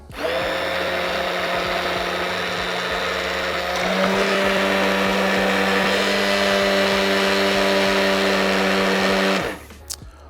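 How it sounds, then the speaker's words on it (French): An immersion blender whirs steadily in a dessert base for an entremets, a loud continuous motor drone that rises slightly in pitch partway through before cutting off near the end. "Pour cela, je vais utiliser un mixeur plongeant."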